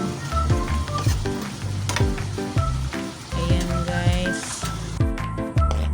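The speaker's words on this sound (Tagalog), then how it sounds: "Halo-haluin lang." Chicken adobo being stirred in a pan as the sauce reduces, with loud sizzling and intermittent scraping and clacks of the utensil, close up, with a voice briefly heard over it.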